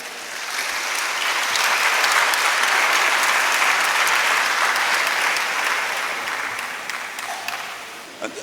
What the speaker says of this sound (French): Mais vous n'avez pas beaucoup applaudi là.